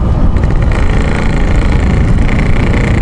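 A Yamaha RX King two-stroke motorcycle engine revs with a loud, steady, close buzzing drone that holds throughout without any pause.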